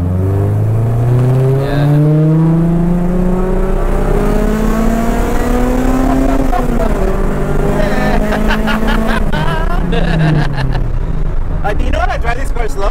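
A loud 2000 Honda Civic EK revs and accelerates from inside the cabin, its engine note climbing steadily through the gears with rising pitch, heard up close with people talking over it.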